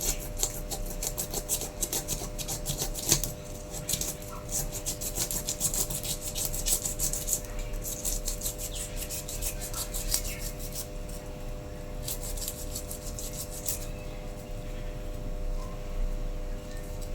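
A knife scrapes and peels the skin from a varal (murrel) fish being prepared Kerala style, giving a steady, close, rasping scrape in rapid strokes that continues almost without pause.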